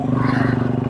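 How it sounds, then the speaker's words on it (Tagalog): A Honda CRF150L motorcycle engine runs close by with a loud, steady, throbbing idle and rapid pulsing firing beats through the whole second. "Ingay ng motor natin."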